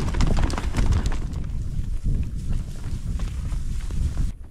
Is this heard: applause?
no